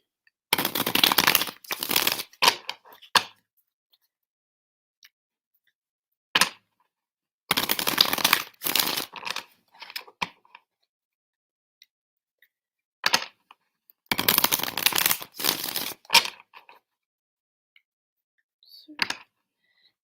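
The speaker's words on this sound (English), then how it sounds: "Is it really loud when I shuffle?" Tarot cards are shuffled in several loud, rapid riffling bursts separated by pauses, with a voice talking in between.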